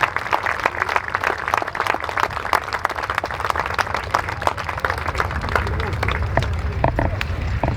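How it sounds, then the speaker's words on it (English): Applause and clapping from an airshow crowd for the Flying Bulls aerobatic display at Sywell, a steady dense patter of many hands with broadband crowd noise, continuous throughout and fairly close. "A round of applause for the Flying Bulls."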